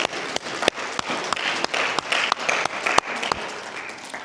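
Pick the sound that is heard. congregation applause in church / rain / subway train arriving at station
congregation applause in church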